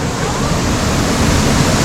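Concord Waterfall in Grenada pours with a close, loud, continuous roar of falling water that stays steady and dense throughout the short stretch.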